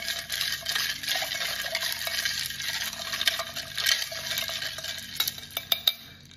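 A spoon stirs a drink in a glass, giving soft continuous swirling with light clinks against the sides that grow sharper and more frequent near the end, close and alone with no voices.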